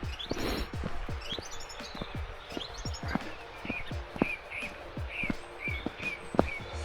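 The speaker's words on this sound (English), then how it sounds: "Hear the birds singing." Birds chirp in short repeated calls near a river on a frosty March morning in the Peak District, over crunching footsteps walking steadily along.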